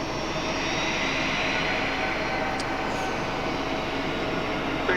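An airplane taxiing at Raleigh-Durham airport, a steady broad engine roar held at a constant level throughout, moderately near and with no talk over it.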